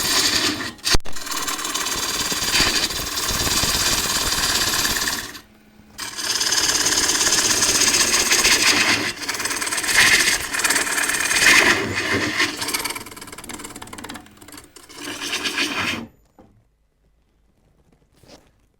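A wood lathe turns a bowl while a gouge makes pull cuts to shape its profile, giving a steady, loud shaving and hissing cut that stops and restarts a couple of times before falling silent.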